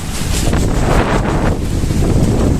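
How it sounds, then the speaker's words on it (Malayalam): Fierce stormy wind in Kerala rain, blasting steadily and loudly against the microphone with rumbling gusts, close and unbroken. "വരും മഴയും സെറ്റപ്പും കാലാവസ്ഥ കൊടും കാറ്റിട്ടാ ഇത് കണ്ടോ"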